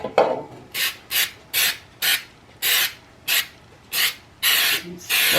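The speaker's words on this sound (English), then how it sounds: "I'm going to spray my tube pan." Cooking spray hisses onto a tube pan in about ten short, evenly spaced bursts, each a sharp, close, fairly loud spritz with brief pauses between.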